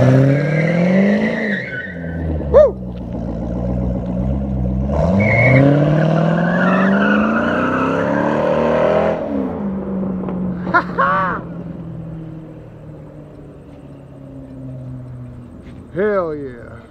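Drift car launching and sliding at a night drifting event, its engine revving and falling in long swells while tires squeal in sharp bursts, loud and close, with people talking over it.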